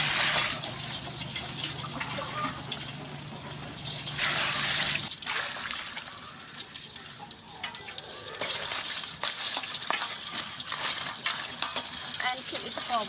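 Water poured into a pan of rice and crab as it cooks, a steady liquid trickle and stirring with intermittent bursts, close and moderately loud with no talking.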